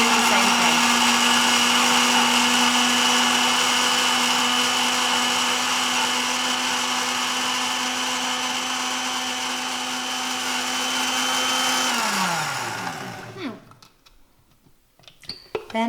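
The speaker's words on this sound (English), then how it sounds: "My mixer is small, and for the purposes of it's a smoothie maker" A small smoothie maker blends a pink fruit mixture with a loud, steady motor whine that runs for about twelve seconds, then spins down and stops, followed by faint clicks and handling noises.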